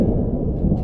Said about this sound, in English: Oh boy, you hear that thunder?